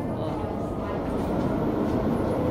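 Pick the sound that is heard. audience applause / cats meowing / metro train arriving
metro train arriving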